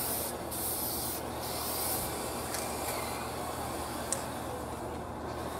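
Paint hissing steadily from an aerosol spray can with a poor nozzle, a continuous close spray broken by brief pauses and a small click near the end, with no talking.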